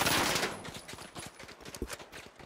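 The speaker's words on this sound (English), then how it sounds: "Then you have the M11, which is the fastest of the weapons" An M11 gun firing in a video game, rapid rattling bursts of fast shots with a steady close rhythm, starting loud and continuing as quick repeated pops.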